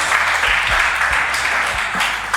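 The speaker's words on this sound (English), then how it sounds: "Please give him another round of applause." An audience at a family summit talk applauds a speaker, a loud, steady wash of clapping with a few low thuds underneath, lasting a couple of seconds.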